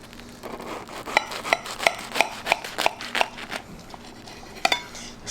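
A knife cuts through a cooked burger on a plate, giving a series of crisp, evenly spaced clicks and scrapes, close and fairly quiet, with a short pause before a final pair of cuts.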